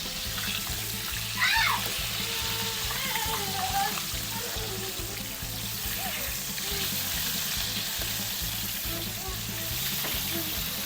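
Milkfish (bangus) fries in a pan after being flipped, a loud continuous sizzle and crackle of hot oil with a steady rhythmic hum behind it.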